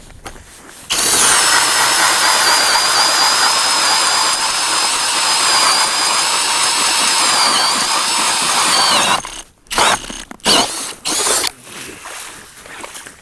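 An ice auger, a K-Drill driven by a Milwaukee drill, spins up suddenly and whines loudly and steadily for several seconds while boring through ice, then stops, followed by a few short scrapes and knocks.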